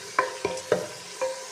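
Tempering spices fry in a pan for an aloo matar curry, a soft sizzle under four quick, distinct stirring scrapes spaced unevenly, close and moderately loud without speech.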